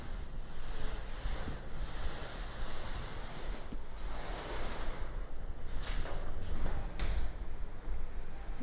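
Wind blows steadily in gusty surges, with a loud rushing roar and buffeting against the microphone throughout, and no voices are heard.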